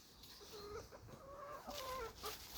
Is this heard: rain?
no